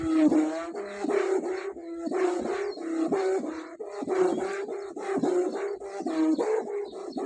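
A steady, warbling drone from a bow hummer on a two-metre Thai crescent-moon kite in the wind. It wavers and pulses rhythmically in pitch and loudness, heard alone at moderate volume.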